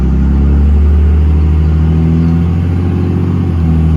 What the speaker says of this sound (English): That thing shifted at 14 miles an hour.